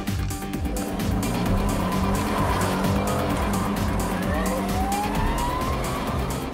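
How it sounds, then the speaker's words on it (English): A P-plate driver's car swings around hard on the road, with sustained loud tire squeal and skidding over a roaring engine for several seconds, no talk. "a P-plate driver coming from the other direction spots the police lights, panics, and swings his car around"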